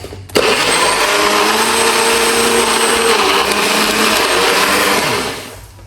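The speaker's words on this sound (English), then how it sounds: "Now what we're gonna do, we're gonna blend it and make some noise." A blender making green juice whirs loudly and steadily for several seconds, a close, high-pitched motor drone that starts abruptly and winds down at the end.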